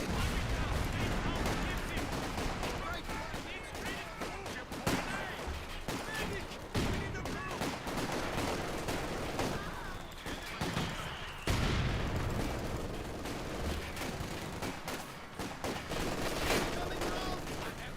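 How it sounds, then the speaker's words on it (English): Mortar fire and gunfire in the video game Company of Heroes 2: dense, continuous battle din of rattling shots and heavy booms filling the whole stretch, with sharp blasts standing out near the middle and later. "We're also under mortar fire, so I'm going to retreat these guys early."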